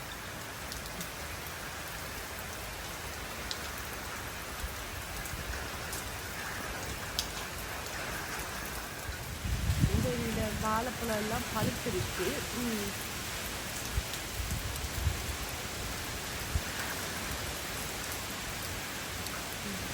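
Steady daytime downpour in Jaffna, Sri Lanka, soaking ripe bananas and flowers, a constant soft wash of rain heard throughout while someone speaks briefly in the middle and a short tonal call rises over it.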